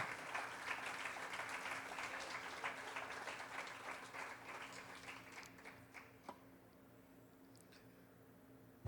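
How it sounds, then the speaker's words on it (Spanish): A church congregation applauds in steady, sustained clapping that gradually thins and fades into near quiet toward the end, heard from a moderate distance. "Dele un aplauso al Señor."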